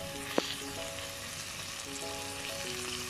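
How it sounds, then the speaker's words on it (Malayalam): Tomatoes sauté in masala for fried chicken biryani, giving a soft, steady sizzle in a pan with a brief clink of a utensil near the start. No voices are heard. "അപ്പോൾ തക്കാളി ഒന്ന് നല്ലതുപോലെ ഒന്ന് വഴറ്റിയെടുക്കാം."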